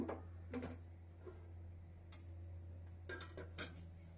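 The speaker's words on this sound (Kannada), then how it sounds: "ತವಾ ಕಾಯ್ಲಿಕ್ಕೆ ಇಟ್ಟಿದ್ದೀನಿ" A tawa pan is set on a stove to heat for fish tava fry, with a few sharp metallic clinks and knocks over a steady low hum.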